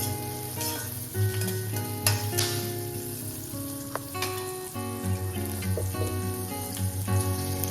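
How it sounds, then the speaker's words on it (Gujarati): Garlic sizzling steadily in a hot pan while being sautéed with chillies, a continuous close crackle with occasional stirring clinks and no talk. "લસણ એડ કરીશું અને એકથી બે મિનિટ માટે એને આપણે આ રીતે સાંતળી લઈશું"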